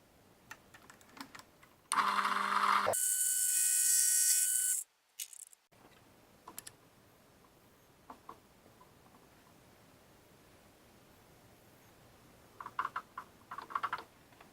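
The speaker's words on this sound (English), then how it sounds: "I'm going to cut a little bit more." A cutting tool shaping a part for a homemade speargun line reel, made without a lathe: a loud, steady buzzing grind of about three seconds, then silence, a brief second burst, and scattered small clicks and taps afterward.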